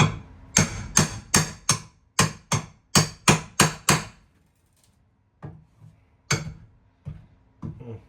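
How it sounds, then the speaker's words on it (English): A hammer strikes hard and fast about a dozen times in steady rhythm, then pauses before several lighter, spaced-out taps. "I'll grab the hammer"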